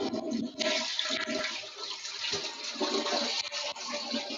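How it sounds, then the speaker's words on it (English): A toilet flushing close by, a loud rushing gush of water that runs for several seconds and then swirls and drains, heard alone with no talking. "Needed to flush the toilet."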